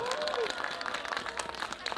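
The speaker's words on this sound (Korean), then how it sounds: "다시 한 번 박수 부탁합니다." A crowd gives a renewed round of applause for a World Vision Church children's choir at a Christmas festival in Seoul, a busy, even clatter of many hands with a voice rising briefly over it at the start.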